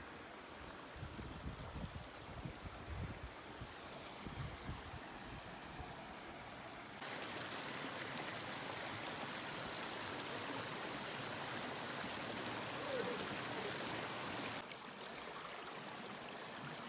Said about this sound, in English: pretty significant stream down there now